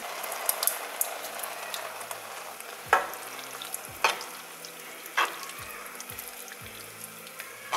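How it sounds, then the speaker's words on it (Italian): Steady sizzling and bubbling as wine evaporates in a hot pan of meat sauce, with a few sharp knocks of a utensil stirring at irregular intervals. "Lasciamo evaporare il vino"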